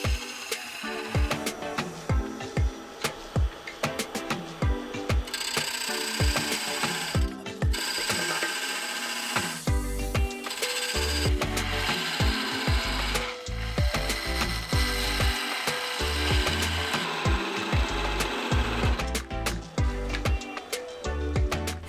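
Power sawing through finished wooden pieces: a loud, continuous rasping cut with stuttering strokes and mechanical whine sustained throughout, close up and without talk.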